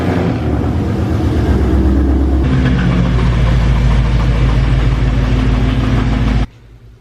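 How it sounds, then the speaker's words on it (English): Loud, deep rumbling Corsa performance exhaust of a Corvette at idle, changing pitch partway through as the engine note shifts, then cutting off abruptly near the end. "this one also has a badass exhaust like we talked about."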